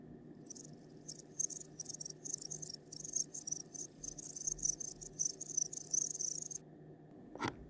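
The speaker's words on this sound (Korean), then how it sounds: "이 무선 충전기가 귀뚜라미 소리를 내는 경우가 있습니다." A wireless charger gives a steady, high, chirping buzz that pulses in quick bursts like a cricket for several seconds, fairly faint and close, followed by a short clatter near the end.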